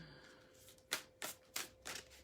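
Tarot cards shuffled during a card reading, four quick crisp riffling bursts in a row, close and fairly quiet, with a faint steady hum underneath.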